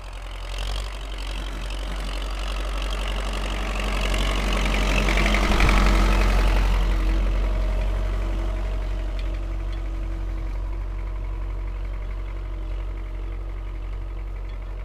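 A 1973 MTZ-50 tractor engine idles during January ploughing with a low, steady chugging rumble, swelling briefly partway through and then settling back to an even drone.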